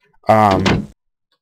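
A single door sound inside a spaceship crew quarters in a building game: one close, loud, tonal creak lasting under a second, with no other sound around it.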